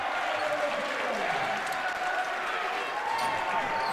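A crowd at a high school boys basketball game cheers and applauds in a steady wash of noise, with a commentator talking over it.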